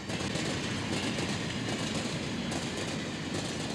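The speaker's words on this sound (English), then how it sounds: "drives on the train all day and into the next night to Los Angeles" A passenger train rolling along the rails, a steady loud rumble with rhythmic clickety-clack of wheels over joints, heard from on board with no talking.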